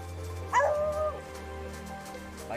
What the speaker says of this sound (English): It's time to start barking.